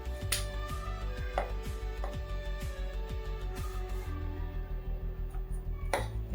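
A stuffed spicy flatbread (pithpoli) is rolled out with a rolling pin, giving a run of soft rhythmic knocks and taps against the board, about two per second, with a few light clinks near the end.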